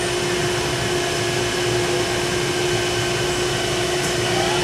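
A Mazak machine spindle oscillates back and forth, unable to reach high speed: a steady, loud mechanical whir with a strong sustained tone, constant level throughout, no voices.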